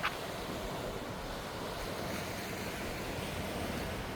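Ocean surf rolls onto the long sandy Ao Khao beach on Koh Mak island, Thailand, as a steady broadband wash with wind rushing across the microphone.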